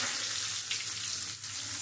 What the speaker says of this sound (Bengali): আমি একদম কড়া করেই ভেজে নিয়েছি।